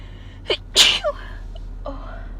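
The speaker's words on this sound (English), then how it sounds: "I think I'm gonna sneeze." A woman sneezes close by: a short sharp inhale, then one loud explosive sneeze and a small trailing sound, followed by quiet.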